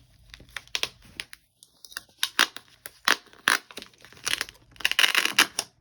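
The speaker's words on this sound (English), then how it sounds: "when you open it up with Velcro" Velcro fastener pulled open on a sturdy scrapbook project envelope, giving a series of close, loud ripping and crackling bursts that come in uneven pulls and grow denser toward the end, with no talk.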